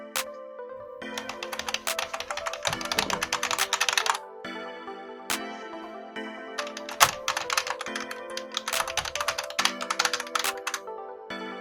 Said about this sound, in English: It's a pleasure to type kind of a keyboard with double injection keycaps, which gives a mechanical keystroke feel.